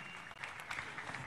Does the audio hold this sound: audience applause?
yes